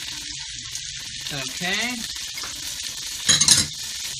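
Ají amarillo frying in a pan, a soft continuous sizzle with stirring, a short voiced sound midway and a brief louder clatter of the utensil near the end.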